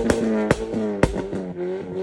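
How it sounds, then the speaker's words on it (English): A car's exhaust pops and bangs: three sharp, loud cracks spaced about half a second apart, each followed by a rumbling engine burble close to the listener. "these sounds are commonly known as pops and bangs"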